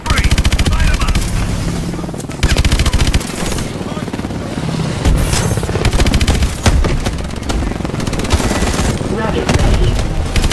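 Rapid, heavy automatic gunfire from Call of Duty Advanced Warfare, loud and close, in dense sustained bursts with brief gaps, mixed with booming impacts throughout.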